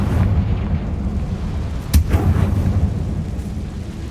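A Confringo explosive spell goes off in the video game Hogwarts Legacy; a single sharp blast cracks out midway over a low rumbling bed, with a brief crackling tail.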